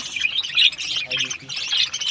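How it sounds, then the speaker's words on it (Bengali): Caged colony pet birds squawking and chirping nearby in a busy, overlapping chorus, with shrill calls rising and falling throughout and a voice speaking briefly in the middle. "এই যে আমার কলোনির পাখিগুলো"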